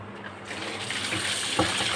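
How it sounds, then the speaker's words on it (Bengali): Tap water runs steadily over cut potatoes being washed in a kitchen sink, a close, even splashing flow lasting about two seconds with one brief knock near the end. "আর এদিকে আলু কেটে নিয়েছি আলুটা ধুয়ে নিই"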